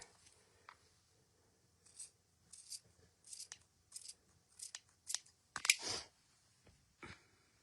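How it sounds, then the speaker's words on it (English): Scissors snip through fur fabric while a neck piece for a craft bunny is cut, a series of close, crisp cuts in short bursts with pauses between them, with no talking. "So I'm going to cut this side with a scissor."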